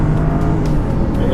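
A 2015 luxury sedan, a Kia K900 or Lexus LS 460, accelerates at full throttle from 0 to 60, a loud, steady engine drone heard from inside the car with no talk.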